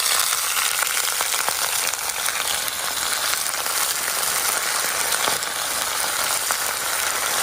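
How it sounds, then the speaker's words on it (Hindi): Chicken frying in hot oil with browned onions, a steady loud sizzle throughout, close and continuous, with no talk. "अब चिकन डालेंगे इसमें। देखिए चिकन को डाल रहे हैं।"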